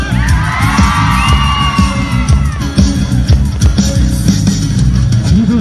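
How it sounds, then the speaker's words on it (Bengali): A crowd at a live music performance lets out a loud shout and cheer, with whoops and yells rising over the music. "একটা জোরে চিৎকার হয়ে যায়"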